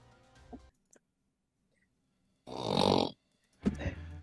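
A voice imitating snoring during a tabletop role-playing game session: two rasping, snorting breaths separated by a pause, close and fairly loud, with faint sounds before them.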